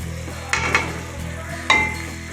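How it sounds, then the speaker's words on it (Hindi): Tomato masala with turmeric, garam masala, chilli and salt sizzles as it roasts in a pan for achari ridge gourd, a low steady fry punctuated by two sharp stirring scrapes, close and alone. "और इन सब चीज़ों को अच्छे से भून लेंगे"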